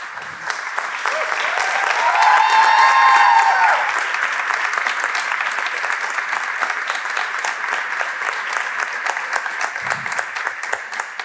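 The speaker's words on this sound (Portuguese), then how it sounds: "uma salva de palmas para a nossa festa mais pequena" Sustained applause from a concert audience at a philharmonic band performance in Portugal, steady and dense clapping for about eleven seconds, with a brief tonal whistle or cheer early on and no talk.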